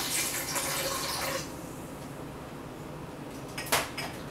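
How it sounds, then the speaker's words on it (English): Filtered water pours into a blender holding macadamia nuts, a steady close splashing rush that fades after about a second and a half into a softer trickle, with a faint clink near the end. "I'm just going to add about 6 ounces of filtered water"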